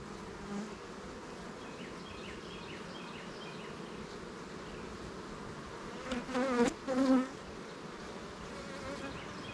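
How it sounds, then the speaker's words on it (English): Honey bees drone steadily at an open hive during an inspection, a close, continuous buzz with a few louder swells as individual bees pass near. "Very calm bees."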